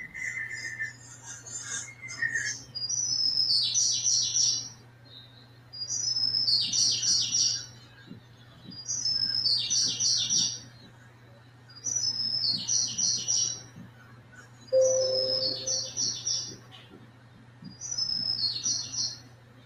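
Recorded birdsong plays in an interactive art installation called Orchestra of Birds, with quick bright chirping phrases repeating in regular bursts about every two and a half seconds over a low steady hum, fairly quiet.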